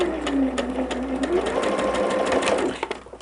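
Sewing machine stitching a quilt block for a barn star sampler, a loud close whirring run of rapid stitching that holds steady, then slows and stops near the end.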